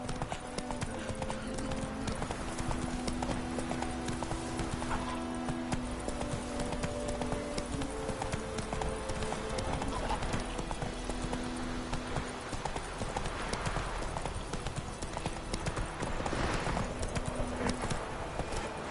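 Roach the horse gallops in The Witcher 3, hooves clip-clopping in a fast, steady rhythm throughout, with background game music and a few brief voices.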